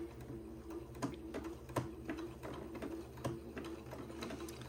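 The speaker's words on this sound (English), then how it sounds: "And I will begin to zigzag" A sewing machine zigzag stitches gathered lace onto entredeux for a Christmas dress, making a quiet, rapid, regular mechanical ticking and whirring of the needle that runs steadily on its own.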